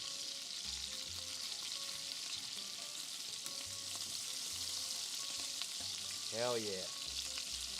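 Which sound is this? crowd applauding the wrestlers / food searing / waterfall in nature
food searing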